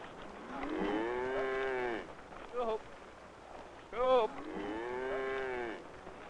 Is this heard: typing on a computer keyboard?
no